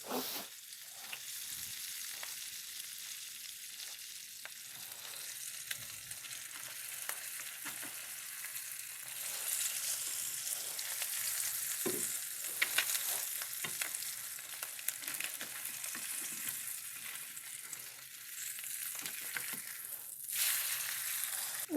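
An egg fries steadily in a hot pan, a continuous soft sizzle and crackle with occasional louder spits, close and alone with no talking.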